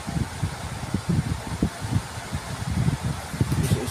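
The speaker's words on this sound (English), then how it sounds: "Now the fan motor" A Condura inverter air conditioner's fan motor spins with a steady, close whoosh of moving air and an uneven low rumbling flutter underneath. No one speaks.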